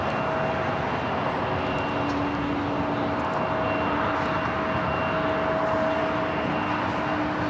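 An Alaska Airlines Boeing 737 MAX 9 at Los Angeles International Airport gives off a steady, loud jet engine roar that holds evenly throughout with no voices.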